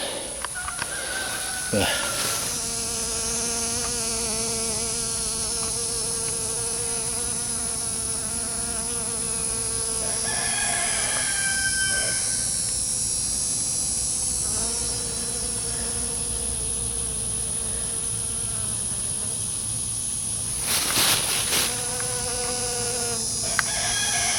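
A dense insect buzz drones on and on, swelling and wavering as many bees hover close by around a hive, collecting pollen, with brief clicks and rustles now and then.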